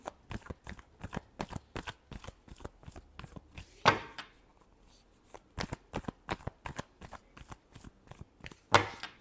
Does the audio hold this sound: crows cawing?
no